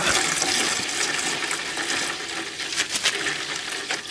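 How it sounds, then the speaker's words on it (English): Coolant pours out of the radiator of a 2004 Kawasaki Vulcan motorcycle with the cap popped, a loud, continuous gushing splash into a container that tapers slightly and turns more spattery toward the end. "There's your coolant coming out."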